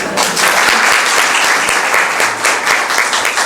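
An audience applauds loudly and steadily, a dense, continuous patter of many clapping hands lasting several seconds without a break.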